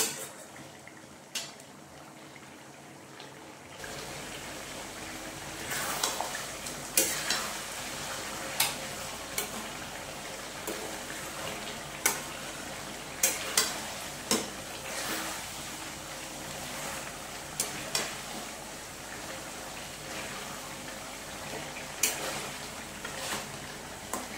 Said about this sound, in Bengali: এটাকে ততক্ষণ পর্যন্ত আমি এটা কষবো যতক্ষণ না পর্যন্ত এটা থেকে তেল ছাড়ে